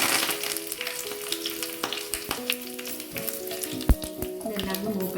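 Fennel seeds, crushed chili and curry leaves crackle and sizzle in hot oil in a pan, a loud continuous frying hiss with scattered pops and one sharp spatter near the end.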